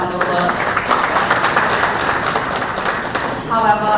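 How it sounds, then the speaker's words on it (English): An audience at a San Fernando City Corporation event applauds in a sustained wash of clapping, with voices speaking over it. "Give a round of applause."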